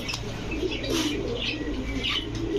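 Pakistani pigeons, Teddy, Budapest and Lahori breeds among them, give soft low coos with bursts of rustling and wing movement close by, several overlapping calls in a short stretch with no talking.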